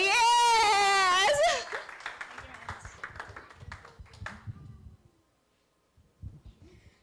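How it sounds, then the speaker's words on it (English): An online corporate event audience claps for their mentor after a loud bleating, goat-like call; scattered, fairly close hand claps follow for a few seconds, then thin out into near silence with a few faint sounds. "Let us give a big, big round of applause to our mentor, Mary Grace Perez."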